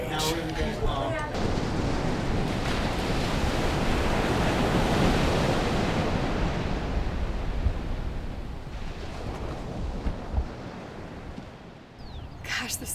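Waves and surf break at a beach, a broad, steady roar with wind buffeting the microphone that holds loud for most of the stretch and eases briefly near the end.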